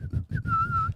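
A human voice whistles in imitation of a character, three short clear tones, the last one held and gently wavering, close and loud, with no speech.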